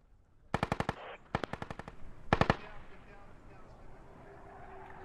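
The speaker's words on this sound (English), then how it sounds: "MG's engaging the Russian forces here by axe" Machine gun fire in a military video game against Russian forces: three loud, close bursts of rapid shots separated by short pauses, with faint radio chatter under the shooting.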